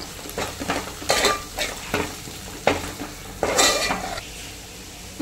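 Masala with chilli powder and garam masala is sautéed in a pan, with bursts of sizzle as the mixture is stirred, repeated scraping and clanks of a metal spoon on the pot close by.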